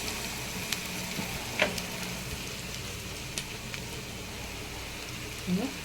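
Curry leaves, ginger paste and turmeric sizzle in hot oil for an egg curry, a close, steady frying crackle with occasional sharper pops and a clink of a spoon stirring.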